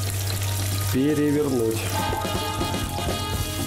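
Cutlets sizzle in oil in a frying pan with a soft, continuous crackle, while a person talks over the cooking sound.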